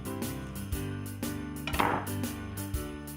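A sharp crack of bone as the backbone of a Christmas turkey is snapped off by hand on a kitchen board, a single brief break among soft handling knocks, close and fairly quiet.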